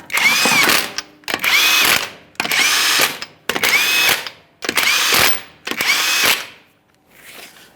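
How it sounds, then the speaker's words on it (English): A power impact tool snugs and torques bolts on a Ford F-150 CV axle assembly in six loud, evenly spaced bursts, each about a second long with brief pauses, followed by a faint final clicking. "We'll be snugging and torquing in a crisscross manner."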